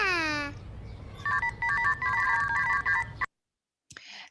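A telephone rings with a bright electronic ringtone: a rising tone, then repeated warbling beeps that stop abruptly, followed by silence and a brief faint sound.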